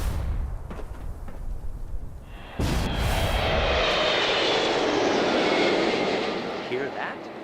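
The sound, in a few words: airplane engine flying over, radio ad in Fallout 76 video game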